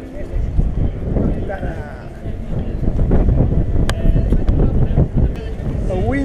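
Wind buffets the microphone with a steady low rumble at sunset in Martim Moniz square, Lisbon, joined by street noise and people talking nearby throughout.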